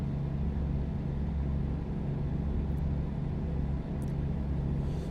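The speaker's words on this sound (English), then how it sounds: "God damn, this truck sounds incredible. That engine sound is beautiful." Truck engine runs with a continuous low rumble and steady drone, loud and close, unbroken for the whole stretch with no talk.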